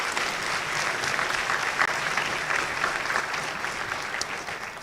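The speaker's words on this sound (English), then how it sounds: "Let's give her another round of applause." Audience applause at a university student awards convocation, a dense steady patter of many hands clapping throughout, moderately close and unbroken.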